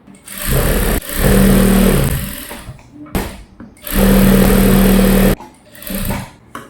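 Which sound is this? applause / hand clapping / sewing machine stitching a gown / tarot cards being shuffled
sewing machine stitching a gown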